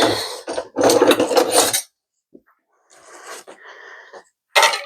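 A large mixing bowl is handled on a kitchen counter during tart preparation, with bursts of scraping, clattering and knocking, a silent gap, then more rattling and a final loud clunk.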